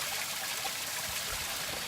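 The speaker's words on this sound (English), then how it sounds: "All I hear are the sounds of nature, the streams flowing, the trees whispering with their leaves, and the birds singing their hearts out" A mountain stream in high wilderness forest, a steady broadband rush and trickle of flowing water, close and continuous with no voices.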